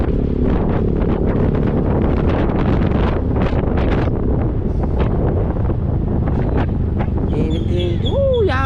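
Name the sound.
wind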